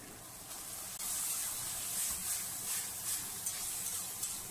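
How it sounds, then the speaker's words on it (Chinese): Diced chicken thigh hitting a hot wok over high heat after chili bean paste and water, a steady loud sizzle and hiss with no talking. "然后开大火下入鸡肉丁"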